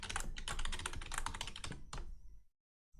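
A password is typed on a computer keyboard: a rapid, close run of crisp key clicks for about two seconds, then a few final taps before silence.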